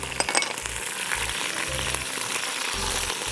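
Fresh ginger and garlic sizzle and crackle in hot oil, a busy frying hiss broken by the clink and scrape of stirring, with no talking.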